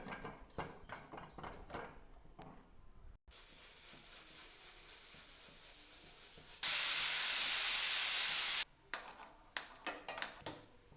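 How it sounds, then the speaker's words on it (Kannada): A pressure cooker whistle on a home kitchen stove blasts a long, loud, steady hiss of escaping steam for a couple of seconds, preceded by softer rattling and hissing and followed by clinking sounds. "ವಿಷಲ್ ಕೂಗ್ಸೋಣ."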